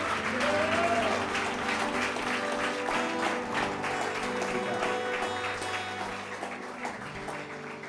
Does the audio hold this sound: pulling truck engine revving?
no